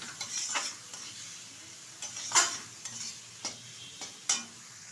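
Rohu fish cooking in mustard paste, being stirred in a pan, with soft scraping stir strokes and a few sharper utensil clinks against a low background, no talk.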